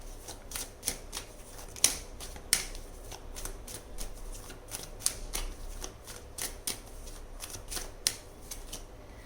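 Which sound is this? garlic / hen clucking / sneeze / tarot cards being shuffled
tarot cards being shuffled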